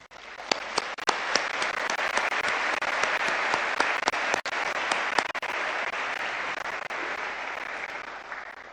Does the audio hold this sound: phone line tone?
no